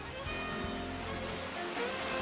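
A garden waterfall at Fullerton, its water pouring and splashing in a steady, dense rush, close and continuous with no talking over it.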